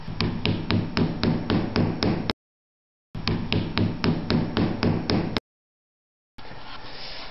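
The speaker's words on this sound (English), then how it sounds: "after lightly tapping it into place so that it's snug but not so that it's tight" A wooden butterfly dovetail key being tapped into place, heard as a steady run of sharp, evenly spaced taps close by in two bursts with short silent breaks between them.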